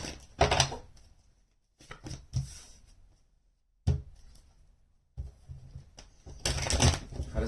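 Tarot cards are shuffled by hand in several separate bursts of crisp riffling and slapping, close up, with quiet gaps between the rounds and a longer, busier flurry at the end.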